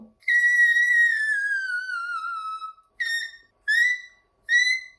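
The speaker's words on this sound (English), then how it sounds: "Let's talk about whistle register, the highest vocal register." A singer produces whistle-register notes in the highest vocal range: one long piercing tone gliding slowly downward, then three short, bright high bursts, close and loud against silence.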